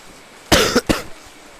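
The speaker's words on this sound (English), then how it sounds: "Apologies for the cough." Two sharp, loud coughs close to the microphone, the first longer with a rough tail, followed by quiet.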